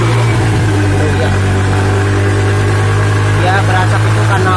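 A Suzuki Spin 125 automatic scooter engine runs again after stalling, idling loudly and steadily up close with a humming low drone and faint revving near the end.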